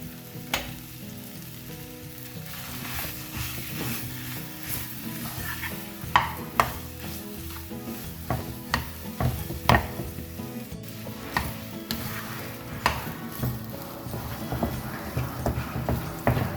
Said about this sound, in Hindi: तो यहाँ पे मसालों की खुशबू के साथ हमने इसको थोड़ा सा भून लिया है।